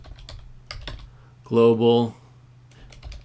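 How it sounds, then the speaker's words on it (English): Git commands are typed on a computer keyboard as light, irregular key clicks that continue under a brief stretch of speech. "then you can type in these commands"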